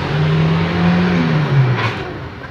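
A petrol-engined Toyota Kijang LGX with Blackcore tuning accelerates hard from inside the cabin, its engine note rising steadily in pitch through the revs and then easing off, loud and continuous with no talking.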